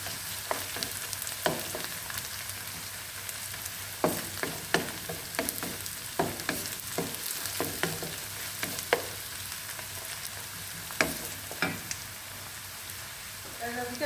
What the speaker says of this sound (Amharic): ነጭ ሽንኩርቴን ጨምሬ እንደዚህ አንድ ላይ በደንብ አቁላላለሁ።